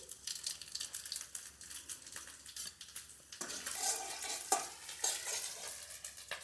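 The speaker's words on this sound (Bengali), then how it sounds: "পাঁচ ফোড়ন কটা আগে দিয়ে দিচ্ছি" Panch phoron spices dropped into hot oil for a village-style pumpkin leaf and prawn dish, stirred with a steady sizzle and scraping strokes, growing louder and busier toward the end; no one talks.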